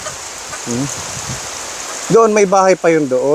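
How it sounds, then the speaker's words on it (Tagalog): Heavy rain falls in a steady, loud hiss that fills the scene, while people talk over it close by. "Lakas ng ulan"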